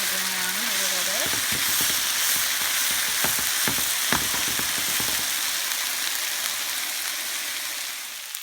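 Onions frying and browning in a completely full pan give a loud, steady sizzle, with a brief low tone early on and a cluster of sharp spatula scrapes and clicks in the middle, heard close up.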